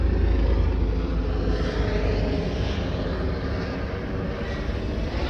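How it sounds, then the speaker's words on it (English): A helicopter passes overhead during a Land Rover Discovery 2 project, a steady low engine drone and rotor rumble that holds loud and even throughout, with no one talking. "And there goes a helicopter."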